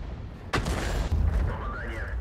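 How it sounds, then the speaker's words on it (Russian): A T92 HMC artillery gun fires in World of Tanks with a sudden, loud boom. A rumbling low tail follows, and a rising whine trails off afterward. "630 суммарка с одного выстрела по двум танкам"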